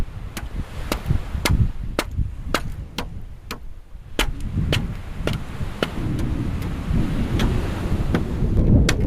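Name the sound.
strong wind on a remote island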